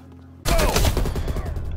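Gunfire in Call of Duty: Black Ops Cold War erupts abruptly after a quiet moment, a loud, dense burst of automatic shots with booming low-end impacts continuing to the end.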